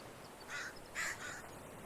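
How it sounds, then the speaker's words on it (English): Crows caw in the forest of the video game The Forest, a few faint, hoarse calls spaced apart over low ambient background. "Gosh, I have all kinds of birds here."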